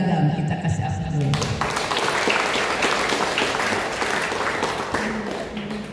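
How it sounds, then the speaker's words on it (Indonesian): Audience applause at a pesantren inauguration ceremony, a dense sustained clapping that swells after the first second and fills the room, with faint voices underneath. "Kita kasih aplaus."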